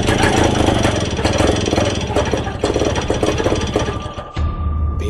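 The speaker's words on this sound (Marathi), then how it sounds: "ते दोघेही त्या पुलाजवळ पोहोचले तशी अचानक त्यांची बाईक बंद पडली" A motorbike engine runs loud and close at night near a bridge, its steady drone with rough knocking suddenly cutting out and dropping away near the end as the bike stalls.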